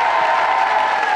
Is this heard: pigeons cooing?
no